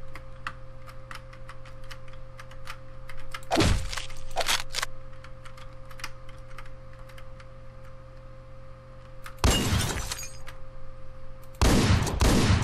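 Gunfire in the top-down action game Hotline Miami sounds in a few sharp, loud bursts over a steady electronic hum and faint clicking, with no talk.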